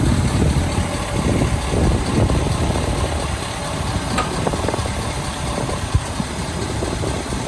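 A tow vehicle's engine runs low and steady as it slowly pulls an Airstream trailer fitted with a lift kit, a continuous rumble that stays loud and close from start to finish.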